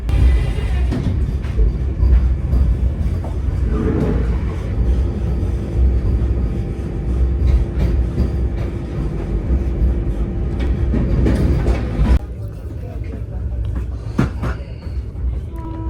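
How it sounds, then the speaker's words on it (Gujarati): The Vande Bharat Express pulls out of Gandhinagar station with a low, steady rumble and faint rhythmic clicks from the carriages. The sound drops to a quieter hum partway through as the train moves off. "સમય થઈ ગયો છે આપણી વંદે ભારત એક્સપ્રેસ જે છે તેને ઉપાડવાનો"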